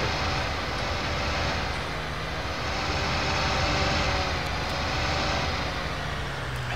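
A tractor engine in Farming Simulator 2019 drones loudly and steadily throughout, a dense continuous roar as the tractor drives over muddy fields.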